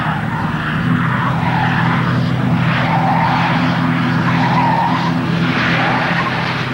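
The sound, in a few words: Ford Falcon 500 car driven fast, tires skidding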